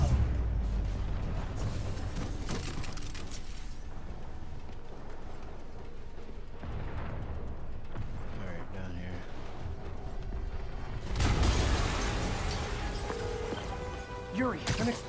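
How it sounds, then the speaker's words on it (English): A heavy blast in Marvel's Spider-Man game bursts out loudly near the end after a long stretch of dense, rumbling action noise. "An explosion just... I saw it"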